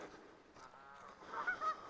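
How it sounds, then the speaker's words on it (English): On an island in Loch Awe, a few geese give faint, somewhat distant honks that grow stronger toward the end against a quiet outdoor background. "I love the geese."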